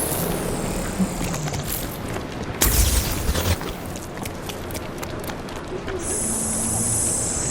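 Drug boats are blown up in the video game Infamous: Second Son. One sharp, loud blast bursts out partway through over a steady hum of game ambience, and a high tone enters near the end.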